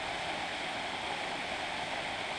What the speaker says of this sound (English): But anyway, this is the waterfall.